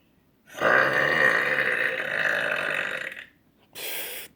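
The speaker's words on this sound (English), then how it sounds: "Son versus mother burping challenge." A woman lets out one long, loud, croaking burp close up, then after a short pause a second shorter burp follows.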